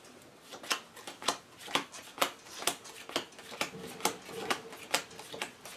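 A deck of cards being shuffled for a Path to Carcosa board game session, with about a dozen crisp riffle bursts at a steady rhythm, close and fairly quiet, with no talking.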